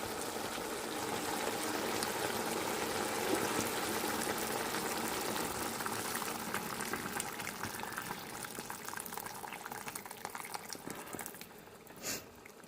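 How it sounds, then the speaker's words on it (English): Water pouring steadily into a pot of partly cooked chicken for Thai tom kai soup, a continuous rushing splash that softens slightly near the end, with a brief clink at the finish. "So now I'm going to fill up with the water."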